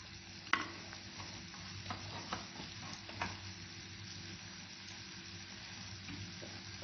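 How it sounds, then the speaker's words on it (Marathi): Spices roast in oil in a pan for black chicken curry with a quiet, gentle sizzle. Occasional light stirring clinks and scrapes can be heard, with one sharper tap early on. "मसाले छान भाजून होतात"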